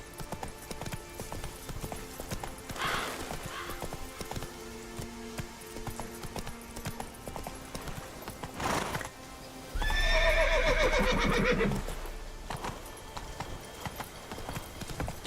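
Horse Roach from the video game Witcher 3, rhythmic clip-clop hooves across the whole stretch, with a loud neigh and whinny near the end.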